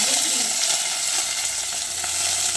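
Potatoes go into hot oil in a pan for Gujarati rasiya bhaat, giving a loud, dense, continuous close sizzle and frying hiss with faint stirring.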